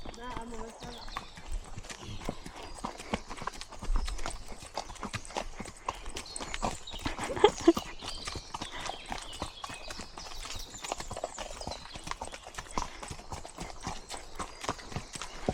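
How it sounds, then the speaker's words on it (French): Hooves of a pony walking on a tourist ride clip-clop in a steady, brisk rhythm throughout, close by, with people talking over them. "Mais votre poney il marche vite."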